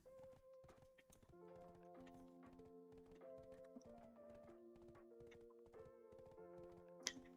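Horse hooves clip-clop at a steady walking pace while riding in Black Desert, quiet and fairly close, under a soft sustained melodic game music score.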